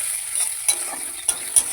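Onions fry in a pan as ginger is added, making a soft, steady sizzle broken by a few sharp stirring clicks.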